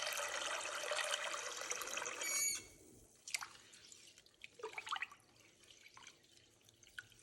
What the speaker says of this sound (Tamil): இது 3யும் நல்லா மிக்ஸ் பண்ணிட்டு, தண்ணீல ஒரு 4, 5 தடவ கழுவி எடுத்துக்கிறேன்.